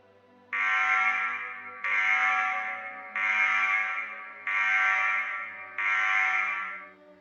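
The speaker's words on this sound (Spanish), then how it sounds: "Sonaron las alarmas y una luz roja intermitente inundó el puente." Five loud alarm blasts sound in a steady rhythm, each a harsh buzzing tone lasting about a second with short gaps between.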